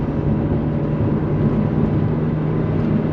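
2004 Maserati Cambiocorsa coupe with a 4.2L V8 driving through a turn, a steady, dense engine and road drone heard from inside the cabin with no talking.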